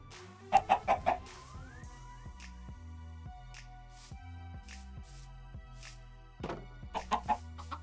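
Minecraft chickens cluck in short clustered bursts, once early and again near the end, over soft background game music, with no talking.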